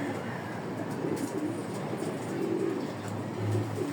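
Pigeons in a loft give soft, low coos that repeat a few times over a constant background hum, fairly faint and with no voices.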